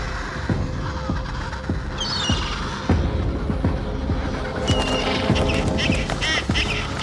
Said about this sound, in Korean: 펭귄의 알과 새끼를 노리는 남극 도둑 갈매기입니다.